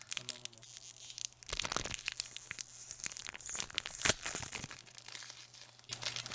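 A plastic fortune cookie wrapper crinkles and tears up close, with bursts of crackling and rustling handling noise over a few seconds and no speech.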